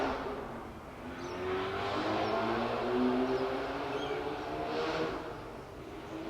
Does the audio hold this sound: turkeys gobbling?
no